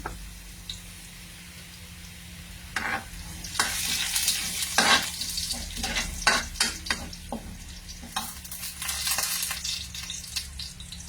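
Garlic stirred and fried in a pan for a malunggay misua dish, a soft constant sizzle broken by repeated scraping stirs and clinks of a utensil against the pan, close and uneven in rhythm.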